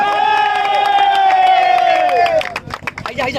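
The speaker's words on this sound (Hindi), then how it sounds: "पिलारू के लिए 2 बार ताली हो जाए।" A crowd at a cricket league prize presentation in Sambalpur cheers and claps; a sustained tonal whistle or horn rides over the noise for about two seconds before scattered claps and shouts take over.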